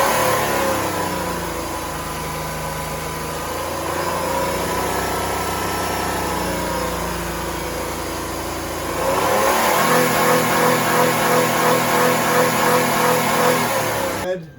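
A truck engine revs hard during a jump-start, a steady mid-pitched drone that climbs and grows louder partway through, continuous and close.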